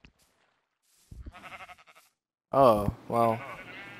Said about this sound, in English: No, actually, there's a black sheep.